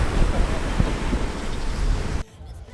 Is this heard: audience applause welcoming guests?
no